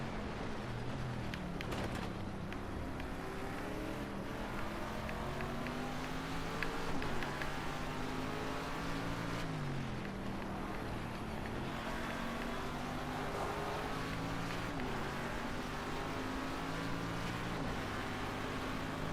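A racing video game car engine howls at full throttle on a track, its pitch sweeping up through gears and dipping at shifts, steady and continuous without talk.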